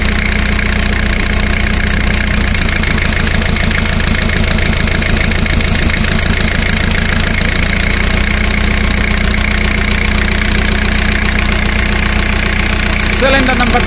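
A car engine idles during a cylinder power balance test, a loud, close, steady rumble with a rhythmic uneven pulse through the middle as one cylinder drops out, then smoothing again.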